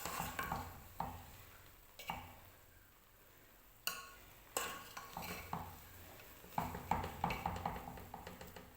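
A spoon scrapes and stirs through cooked jaggery rice in a pot, with a series of soft clinks and scraping strokes at an uneven rhythm, close and fairly quiet, no talking.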